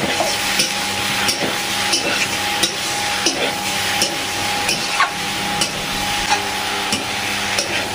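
Malabar spinach, jackfruit seeds, potato and eggplant are stir-fried with salt and slit green chillies in a wok, a continuous moderate sizzle broken by rhythmic scrapes and clinks of a spatula, with a voice talking over it.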